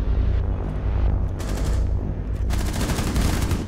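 Rainbow Six Siege gunfire on the Coastline map in a team deathmatch Secure Area match, loud rapid automatic bursts over steady background noise, with heavier volleys in the second half.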